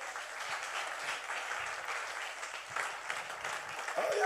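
A church congregation claps steadily for the Lord, a dense sustained wash of many hands at moderate distance, with a voice speaking over the applause and a brief higher tone near the end.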